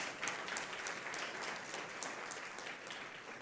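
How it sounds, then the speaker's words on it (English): A keynote audience applauds, a sustained, fairly distant wash of many hands clapping at an even level throughout. "Round of applause for them"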